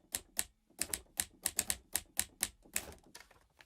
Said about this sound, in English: I found this virtual instrument that is a typewriter.